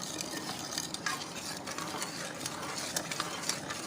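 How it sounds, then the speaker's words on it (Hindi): A spoon stirs sugar and salt into boiled, cooled milk, a faint, close, continuous scraping and swishing with small clinks against the container, without any talk. "और ठंडा करने के बाद अब इसमें शुगर और नमक अच्छी तरह से मिक्स कर रहे हैं।"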